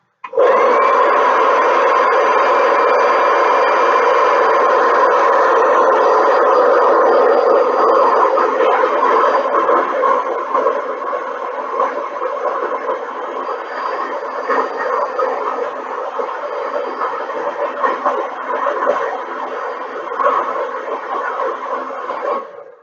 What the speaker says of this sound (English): what we're going to do is turn a hairdryer on it and see how much that pulls up by